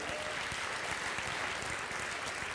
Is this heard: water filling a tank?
no